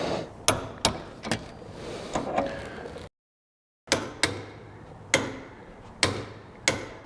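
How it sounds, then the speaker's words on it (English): Torque wrench tightening a jam nut against the stabilizing arm of a Camso X4S track kit on a Polaris Sportsman 850 SP, sharp ratcheting clicks at irregular intervals, close and clear, with a brief silent gap midway. "tighten the jam nut against the stabilizing arm to 30 foot-pounds of torque"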